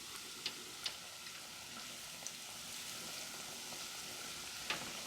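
Beer-battered fish frying in a deep fryer, a steady soft sizzle with a few sharp pops and crackles spread through it, fairly quiet and with no voices.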